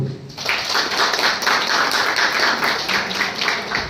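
An audience at a Kannada public talk breaks into applause, a dense, sustained wash of clapping that starts abruptly and continues at a steady, fairly loud level.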